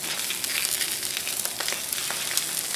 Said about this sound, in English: Once the sausages cook fairly slow, they've got to cook